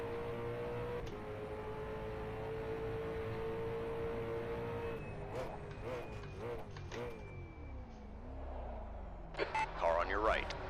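Race cars in rFactor 2, NARS mini V8 Supercars at Townsville, engines droning steadily and then rising and falling in pitch as they shift and pass, with a radio voice speaking over the engine noise.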